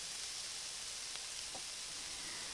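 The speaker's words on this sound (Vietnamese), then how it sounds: "bây giờ mình sẽ cho vào đây là 800 g nước nè" Water poured into a pot of sizzling stir-fried pickled mustard greens for a braised beef stew, a steady broadband hiss and sizzle running throughout with a few faint splashy accents, no talking.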